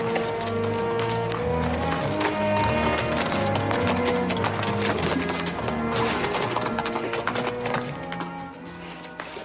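Horses' hooves clip-clopping in a Western setting, a steady, fast rhythm of hoof taps carried under a continuous musical score throughout.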